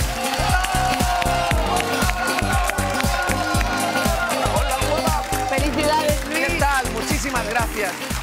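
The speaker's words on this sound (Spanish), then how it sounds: "Un fuerte aplauso para Luis Piedrahíta." TV studio audience claps loudly and rhythmically for comedian and magician Luis Piedrahita, with band music playing underneath and the beat of the applause running through the whole stretch.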